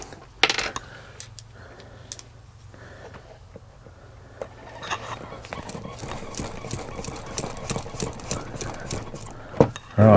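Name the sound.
driving a screw into caravan light fitting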